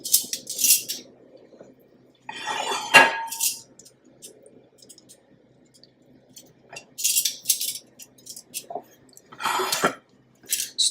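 Spicy honey garlic chicken wings being plated with scallion garnish: scattered clinks of dishes and utensils in a few separate bursts, with quiet pauses and soft handling noise in between.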